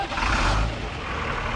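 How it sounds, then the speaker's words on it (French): Two fire trucks handed over to Burkina Faso's national fire brigade (BNSP) rev their engines, a loud, steady low rumble with a swelling surge early on and no voices. "C'est le vrombissement des camions d'incendie remis à la Brigade nationale des sapeurs-pompiers"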